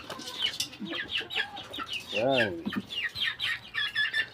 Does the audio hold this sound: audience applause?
no